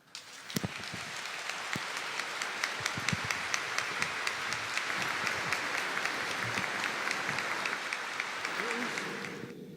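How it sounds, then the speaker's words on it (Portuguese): A church congregation standing to applaud during a rite of diaconal ordination, loud sustained clapping from many people that builds quickly and holds for nearly ten seconds, with a few sharper claps and faint voices mixed underneath. "Quem estiver de acordo, fique de pé e dê uma salva de palmas."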